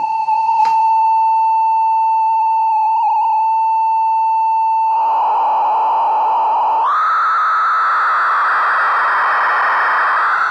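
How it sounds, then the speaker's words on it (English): A Hordijk modular synthesizer puts out a loud sine tone that wavers and breaks up, with a click near the start, then dissolves into a grainier, noisier tone that jumps higher in pitch and continues steadily. "go from that sine wave to that noisy kind of territory"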